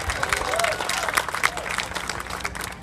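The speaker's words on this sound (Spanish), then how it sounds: "Maestrísimo, fuerte el aplauso" A live concert crowd claps and cheers for a band's bass player in Chihuahua. The applause runs continuously as an announcer speaks over it.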